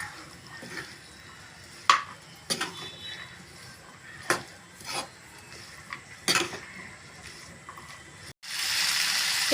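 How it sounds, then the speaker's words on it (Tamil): Broad beans and potatoes being stirred in a pan for a Tamil avaraikkai poriyal, with a few sharp scraping clacks of a spoon against the pan over steady sizzling, ending in a brief louder hiss. "இதையும் நல்லா கலந்து விட்டுக்கலாங்க."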